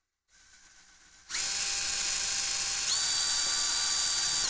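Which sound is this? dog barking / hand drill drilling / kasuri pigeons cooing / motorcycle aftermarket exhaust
hand drill drilling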